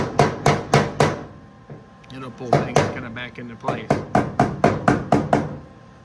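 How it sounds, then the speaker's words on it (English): A hammer taps the metal door panel of a 1969 Pontiac GTO in quick bursts of four to five strikes, pausing while someone speaks briefly, then resuming a rapid run of taps. "you just give a little tap here with the hammer."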